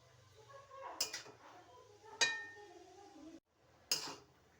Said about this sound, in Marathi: तुपात गाजर आपल्याला चांगला असा अगोदर परतून घ्यायचं